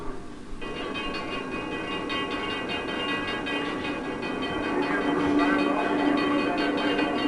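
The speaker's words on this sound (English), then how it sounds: "Kids love trains, and for good reason. They're big, powerful, and loud." A train rolls past on the rails, a steady loud rumble with metallic screeching and clatter that swells slightly toward the end.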